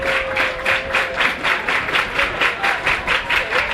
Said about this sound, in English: the Brother Martin student section, clapping and hoping for more than that